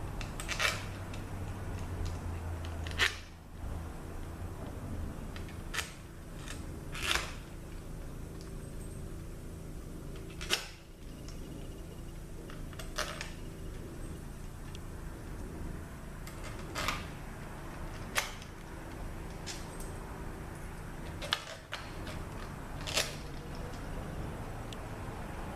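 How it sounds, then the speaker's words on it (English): Bolts go back into a ZF8HP70 automatic transmission valve body, with sparse, sharp metallic clicks and taps every few seconds over a quiet steady background. "now we've got to put all these bolts back in"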